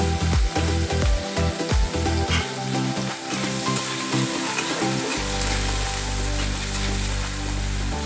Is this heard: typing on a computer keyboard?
no